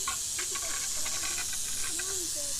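Hiss from an angry snake being handled at a Greyhound station in Lethbridge, a steady, sustained breathy hiss lasting the whole moment, close and moderately loud, with faint scattered squeaks and no talk over it.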